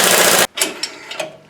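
A tie rod end nut being tightened down on a Dakota during a lower ball joint and upper control arm job: a loud, close rattling burst that stops abruptly, followed by a few lighter metallic knocks.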